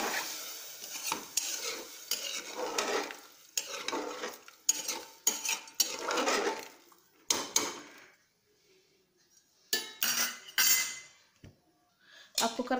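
Repeated scraping and clinking of a spoon stirring rice, peas and carrots with water inside a metal pressure cooker pot, in uneven bursts with short pauses between.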